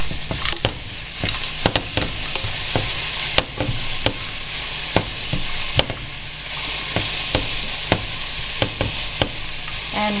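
Peas and carrots stir-frying in a pan for an orange chicken and egg roll in a bowl meal prep, with a steady close sizzle broken by regular sharp clacks of a utensil scraping and tossing the vegetables.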